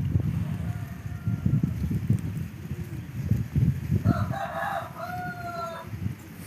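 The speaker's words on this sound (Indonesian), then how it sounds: "anginnya sangatlah kencang sekali" Strong afternoon wind buffets a phone microphone with a low, gusty rumble throughout, while a rooster crows in the background toward the end.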